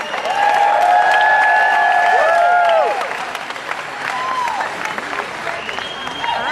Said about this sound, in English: Give Cody a round of applause, everybody.